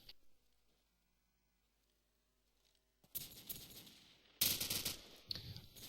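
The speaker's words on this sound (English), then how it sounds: "FedEx gets taken down by Moses with an awesome AK shot" AK rifle fire in Call of Duty 4 breaks out after about three seconds of near silence, with rapid loud bursts of shots and a sharper volley near the end, no voices.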